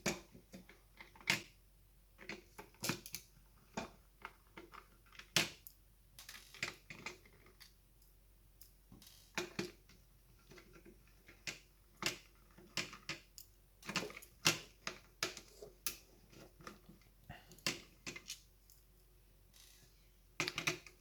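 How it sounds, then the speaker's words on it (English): Screws being backed out of an AWM gel blaster shell, heard as a steady run of small, sharp plastic-and-metal clicks and ticks close up, irregular bursts separated by brief pauses, with no talking. "Take all these self-tapping screws out of here."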